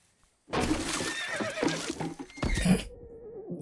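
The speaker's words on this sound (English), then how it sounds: "Stay away from the horses." A horse gives a loud, drawn-out whinny with quavering rises, close by, with no talk over it.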